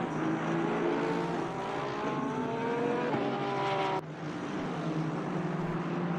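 A Porsche GT3 race car drives in Assetto Corsa Competizione at Circuit Zolder, its engine whining and climbing in pitch through gear shifts at moderate loudness, with a brief break partway through.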